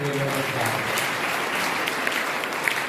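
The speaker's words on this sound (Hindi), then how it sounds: "आपको हम स्वागत करते हुए ताली बजाकर" Church congregation at a Sunday service applauding to welcome newcomers, a dense steady clapping across the whole span with a voice briefly audible at the start.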